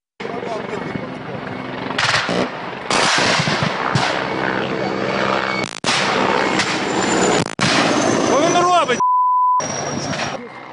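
Helicopter rotor noise mixes with bursts of rapid gunfire in choppy segments, with voices underneath and a short electronic beep near the end.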